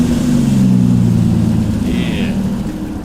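A car engine sound effect in a Cyberpunk RED tabletop session, with a steady low droning rumble that runs without a break and stays loud and close throughout.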